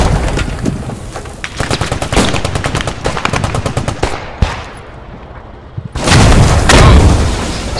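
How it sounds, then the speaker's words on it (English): Gamma bombs burst among the rattle of gunfire in the Post Scriptum war game, with quick bursts of automatic fire, sharp cracks, a pause, then a loud rolling blast near the end. "gamma bombs explode on impact"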